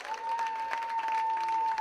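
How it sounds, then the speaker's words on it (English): Audience at an African Christian conference applauding, a dense, steady wash of clapping from a crowd with a sustained tone running beneath it. "Clap for Jesus."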